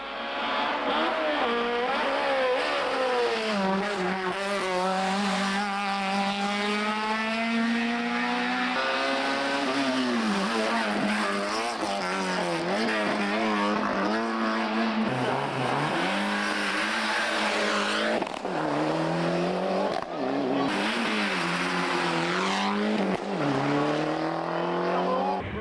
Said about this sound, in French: Ducastel dut se contenter pour son retour à la côte de contenir la Honda de Simon et la 205 de Fritsch.